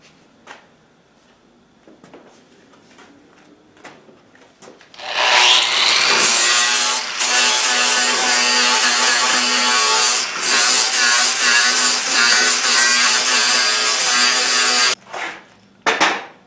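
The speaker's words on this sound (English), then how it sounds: "Switch back to my grinder and my flap disc, and I'll just carve me out a little dish there that's bigger." An angle grinder fitted with a flap disc carves a shallow dish into wood for a potting bench made from a Radio Flyer wagon. After quiet handling, a loud continuous abrasive roar runs about ten seconds, then stops with a brief final burst.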